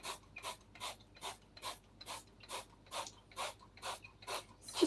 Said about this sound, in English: I might just sprinkle a little bit of the spray on top